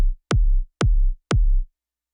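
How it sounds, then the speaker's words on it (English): An electronic dance music kick drum strikes three clear times at an even pace, each a deep punchy thump with a short decaying boom, loud and dry with nothing else playing. "I have a kick. Sounds like this."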